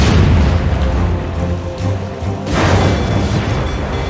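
Ship cannon fire in the Assassin's Creed Rogue naval battle game, loud continuous booming salvos with a fresh heavy blast partway through, set against a dense roaring wash of battle noise and no clear speech.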